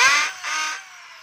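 A DeWalt D21710 half-inch hammer drill, set to hammer mode, whines at high pitch in two short bursts before winding down, close and loud with no talking.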